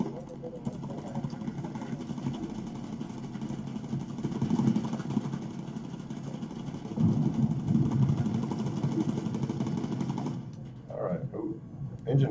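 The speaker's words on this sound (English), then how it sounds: "Engine fire again. They're going for our engines." Droning bomber aircraft engines in the Bomber Crew video game hum steadily for about ten seconds, swelling louder midway, before cutting out into quieter sounds.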